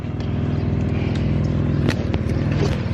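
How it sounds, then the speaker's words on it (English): A car engine with an odd sound runs nearby, a steady low throbbing drone with a pulsing rhythm and a few faint clicks and knocks over it. "And why his car sound like that?"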